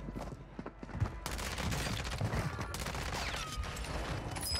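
Dense automatic gunfire from the video game Warzone, a near-continuous loud fusillade of rapid shots after a brief quieter opening, with no speech over it.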